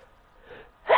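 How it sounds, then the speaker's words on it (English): A single human sneeze bursts out at the very end, preceded by a faint intake of breath, close and fairly loud. "I sneezed a belter."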